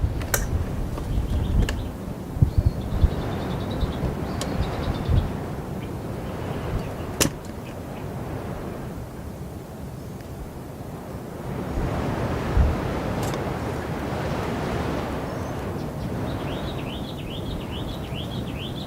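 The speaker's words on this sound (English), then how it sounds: "Doesn't help that it's extremely windy." Strong wind buffets the microphone with a continuous roaring rumble that surges and eases, with faint bird chirps in the background.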